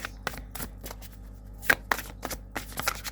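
Sacred Forest Oracle cards are shuffled by hand in a run of quiet, crisp riffling bursts with short pauses between them, close and soft, with no talk.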